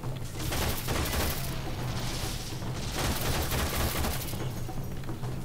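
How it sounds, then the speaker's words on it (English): Sustained gunfire pours in on the player during a firefight in the sci-fi shooter Warframe, a loud, dense stream of shots with booming impacts running unbroken throughout. "somebody's shooting me from somewhere and I have no idea where"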